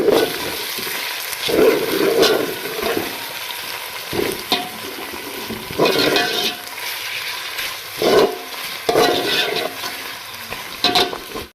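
Chicken frying in a pan as a garlic, ginger and green chili paste goes in, with steady sizzling broken by bursts of louder crackle and stirring scrapes, close by and without talk.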